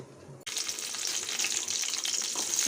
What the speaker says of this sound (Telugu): ఇవైతే ఇప్పుడు నేను అన్నీ ఫ్రై చేసుకుంటాను